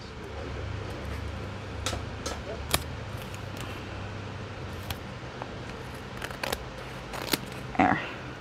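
Scissors snip along the side of a paper envelope in a series of sharp, irregular close cuts, with quiet handling noises between them.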